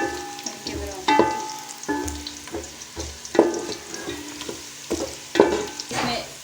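Onions frying in a pan until light brown, with a steady sizzle broken by repeated scraping stir strokes at close range, each stroke bringing a brief louder burst.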